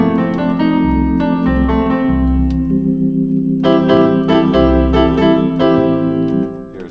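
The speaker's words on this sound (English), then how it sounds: "Here's a piano for you." Piano voice played on a Roland Atelier AT-10S organ, a melodic passage of sustained chords and bass notes over several seconds, loud and close with no speech.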